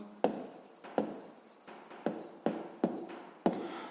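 A pen scratches across paper while an answer to a sixth-grade maths exercise on a rectangle's perimeter and area is written out: about seven short, close, crisp strokes, each a sharp onset fading into a soft scrape.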